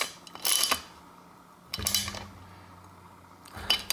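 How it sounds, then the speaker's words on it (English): Small metal clamp screw on a bicycle front derailleur cable being tightened with a tool, giving three short separate bursts of clicking, scraping metal, fairly close and quiet, with no voices. "tighten down this little clamp screw here to clamp this cable into place"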